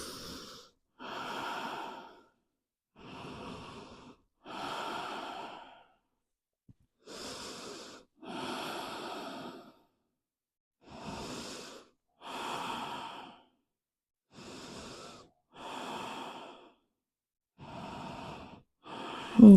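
Slow, audible breathing during a yoga child's pose, about a dozen soft, airy inhales and exhales in an even rhythm, close and alone in a quiet room.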